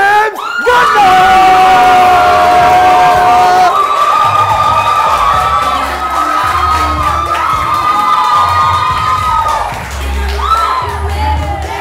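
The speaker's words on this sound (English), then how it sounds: "with a round of applause, ladies and gentlemen, give it up for the man, James Gardiner!" A large audience at a live entertainment show cheers, screams and applauds loudly for nearly twelve seconds, high whoops and shouts riding over steady clapping, with a drop and swell near the end.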